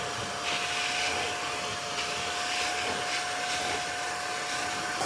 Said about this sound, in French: j'ai sorti mon extracteur injecteur avec dedans de l'eau bien sûr, de la lessive, mais aussi du désinfectant